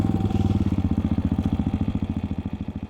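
Dirt bike engine as the clutch is released, a close, loud, rapid chugging thump that starts dense, then slows into evenly spaced pulses as the revs drop.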